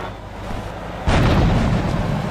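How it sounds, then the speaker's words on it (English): A heavy, booming grenade blast from GTA III bursts out suddenly partway through and rumbles on loudly over a steady game background. "lobbing grenades over the wall."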